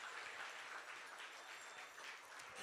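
Faint, distant applause from the audience at a livestreamed fundraiser, a continuous soft patter of many hands clapping with no talk over it.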